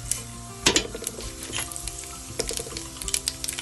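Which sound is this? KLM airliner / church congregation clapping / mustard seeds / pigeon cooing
mustard seeds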